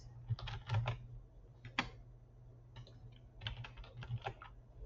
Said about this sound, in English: I'm going to type in super easy quiz.